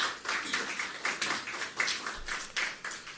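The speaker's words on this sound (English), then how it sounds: "the farmers deserve a big, big round of applause" Faint, steady round of clapping from a seated audience at a government agriculture briefing on hurricane recovery, a dense patter of hands with slight surges, heard from a distance for about three seconds.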